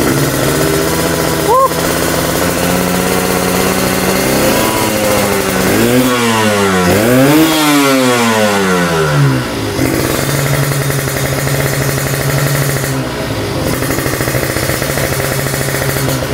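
A two-stroke Kawasaki Ninja motorcycle, left unstarted for two months and pouring thick smoke, runs close and loud with a buzzing idle that revs up and falls back twice before settling into a steady drone.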